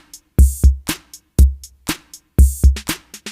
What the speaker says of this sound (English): So the first track is, the drum kit is C78.